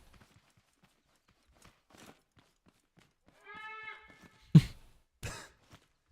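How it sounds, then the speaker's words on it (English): A cow lows in the Scrap Mechanic video game, one short buzzy moo in the middle, followed by a couple of sharp thuds and hooflike clops, faint and sparse against near silence. "It's kind of what a cow meow sounds like."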